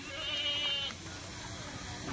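A Kathiawadi goat at a goat market gives one drawn-out, wavering bleat close by. Faint background noise continues after it.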